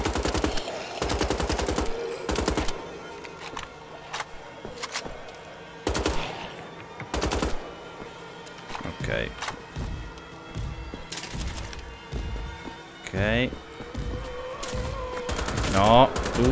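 Bursts of rapid gunfire in Wolfenstein: The Old Blood crack loudly in clusters, with single shots and thuds in between and brief voices under the action.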